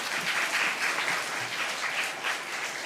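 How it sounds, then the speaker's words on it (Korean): An audience in a church hall applauds a professor after a talk, a steady wash of clapping from many hands lasting a few seconds at even volume. "교수님께 뜨거운 박수 한번 올리겠습니다"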